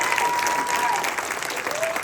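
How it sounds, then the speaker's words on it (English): Audience applause for Samson at a Q&A event, steady dense clapping from a crowd throughout, fairly loud and even. "can you give Samson a big round of applause?"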